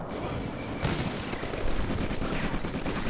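Machine gun fire rattles in the WWII strategy game Combat Mission: Afrika Korps, dense overlapping bursts of gunfire with a rumbling battlefield backdrop and no one talking.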